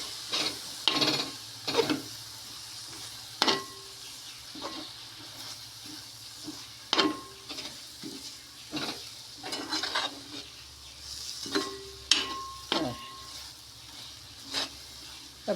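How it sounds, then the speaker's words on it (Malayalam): Coriander, chili and fenugreek powders frying in a pan for fish head curry, stirred with repeated scraping strokes in an irregular rhythm over a soft background sizzle. "ഇതിനെ നമുക്ക് നന്നായിട്ട് ഇളക്കാം."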